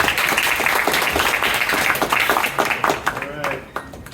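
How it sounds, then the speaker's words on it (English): A live audience at a DeSciNYC science talk applauds the speaker, dense sustained clapping filling the room at steady loudness, with a few scattered voices and calls mixed in near the end as it tapers. "let's give Ryan a round of applause"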